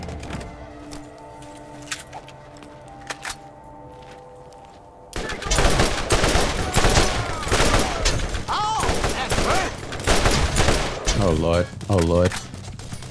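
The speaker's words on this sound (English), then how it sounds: "I don't know who y'all shooting at." Rapid gunfire bursts erupt after a quieter opening, loud dense volleys like automatic weapons firing repeatedly, with voices shouting over the shooting.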